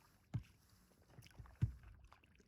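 Paddle strokes from a small boat on Upper Arrow Lake, two distinct low splashing dips about a second apart, quiet and close amid faint outdoor ambience.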